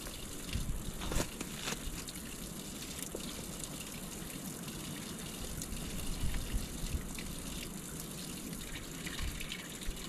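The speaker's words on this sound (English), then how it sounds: "I'll just fill these things right up." Natural spring water gushes and splashes steadily into containers being filled outdoors, a continuous broadband rush with no talk.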